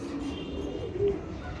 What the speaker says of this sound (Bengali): লাল গিয়ারের কবুতর।